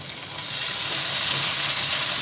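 Ginger paste drops into a pan of lightly fried onions and bay leaf for a Bengali egg and potato curry. It brings a loud, close, continuous hiss and sizzle that swells after the first half second.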